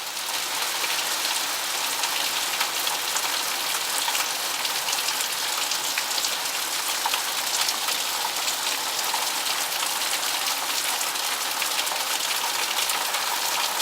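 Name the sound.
heavy rain falling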